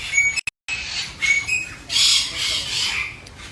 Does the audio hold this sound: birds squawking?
yes